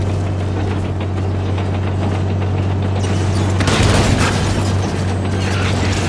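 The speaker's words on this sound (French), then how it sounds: "Il tire sur le scorpion." Gunfire and explosions from the video game Halo 5, dense rattling shots over a low steady hum, growing into a louder burst of fire partway through.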